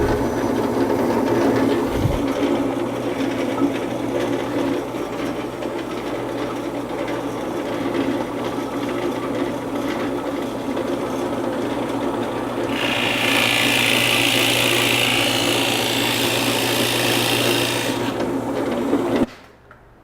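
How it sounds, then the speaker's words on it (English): A drill drives a 3/4 inch Forstner bit into oak, giving a steady close whirring drone, with a harsher, brighter cutting rasp midway that stops as the motor winds down. "now we're just going to drill them out with the Forstner bit"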